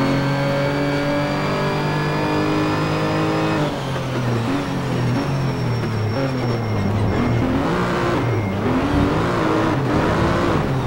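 A Porsche race car's engine roars in the racing game Need for Speed Shift, a loud continuous drone that climbs in pitch through the gears, drops at each shift and revs up again, with no talking.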